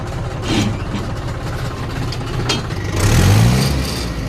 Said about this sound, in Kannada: ಸೊ ಫೈನಲಿ ಈಗ ಟ್ರ್ಯಾಕ್ಟರ್ ಸ್ಟಾರ್ಟ್ ಆಯಿತು